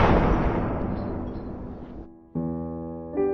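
A single gunshot bursts out loud and then rolls away in a long, echoing decay over about two seconds, before steady sustained musical tones take over.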